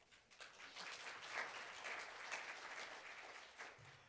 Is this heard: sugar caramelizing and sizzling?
no